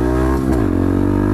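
A close Grom-style small motorcycle engine revs hard, its pitch rising and then settling into a loud, steady high idle buzz.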